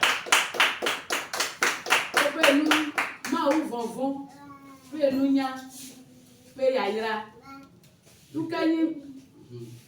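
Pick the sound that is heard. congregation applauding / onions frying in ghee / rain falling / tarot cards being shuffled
congregation applauding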